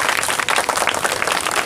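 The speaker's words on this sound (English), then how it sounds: "Make a huge clapping for him." Steady applause from an audience at a school quiz award ceremony for the winner, a continuous crowd of clapping hands without talk.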